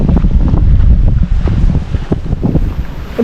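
Strong wind buffets the microphone in a continuous low rumble by a river, with gusts swelling and easing. No one speaks.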